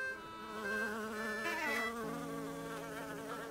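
Bees buzz around a beehive in the Snufkin: Melody of Moominvalley video game, a continuous droning hum that wavers slightly in pitch, steady and fairly soft throughout.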